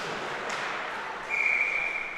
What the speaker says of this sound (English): Whistle here and a penalty.